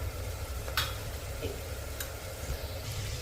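Mutton fries with coriander, black pepper and cumin powder under constant stirring, a soft low sizzle beneath a steady hum, with a few brief spoon clicks against the pot.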